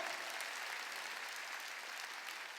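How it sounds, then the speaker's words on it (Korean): A church congregation claps during a Sunday worship service, steady dense applause from many hands filling a large hall at moderate distance, with no voices over it. "박수 쳐야죠."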